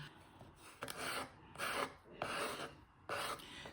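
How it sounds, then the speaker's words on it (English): Several rhythmic back-and-forth strokes of sanding on wood, a dry rasping rub in bursts, close up with no talking. "These are interesting little sanding pads"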